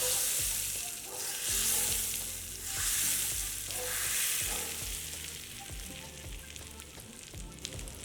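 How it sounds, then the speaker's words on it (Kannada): A tempering of mustard seeds, asafoetida, curry leaves and dried red chillies sizzles loudly in hot oil for raw tamarind thokku, a dense surging hiss that swells and eases over steady background music. "ಸಾಸಿವೆ, ಇಂಗು, ಕರಿಬೇವು, ಒಣಮೆಣಸಿನ್ಕಾಯಿ ಹಾಕಿದ್ದು"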